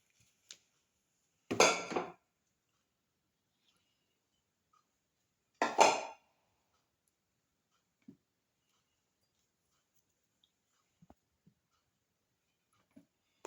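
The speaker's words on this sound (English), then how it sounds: "Put in the mango pieces into the grinder. Put in the cardamom pods." Mango pieces and four to five cardamom pods dropped into a grinder jar, heard as two separate rattling clatters a few seconds apart, then faint small clicks in an otherwise quiet kitchen.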